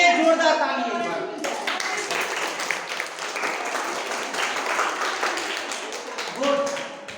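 Audience applause breaks out at an education event, a dense, lively clapping that fills the room after a short opening and stays loud and even throughout, with a few voices heard over it near the end.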